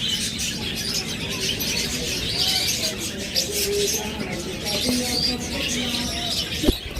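Diamond doves coo softly among other cage birds at a pet bird sale, low repeated calls under constant chirping and chatter from the surrounding aviary, with faint human voices in the background.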